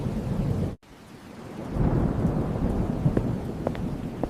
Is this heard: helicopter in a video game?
no